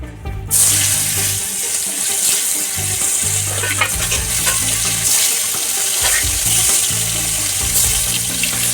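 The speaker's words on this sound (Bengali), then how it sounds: "এখন মাছ ভাজবে তেল দিয়ে দিয়েছে" Katla fish coated with turmeric and salt dropped into hot oil, silence giving way to a sudden loud, sustained sizzle and bubbling that continues close up, with no voices.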